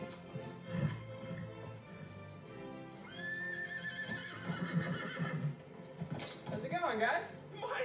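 A horse neighs and whinnies amid a sitcom scene, with hoofbeats and busy background sound; a rising whinny stands out near the end, mixed with other activity and possible voices.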